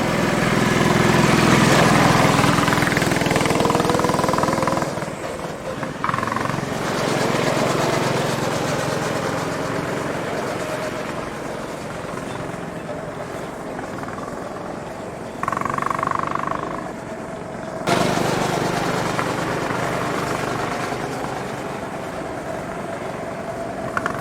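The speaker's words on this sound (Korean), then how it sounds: "바로 옆에 레이싱 카트를 또 타러 왔습니다." Go-kart engines at a racing track by Daecheon Beach drone loudly and steadily throughout, the pitch rising and falling as karts pass, with a few brief louder surges.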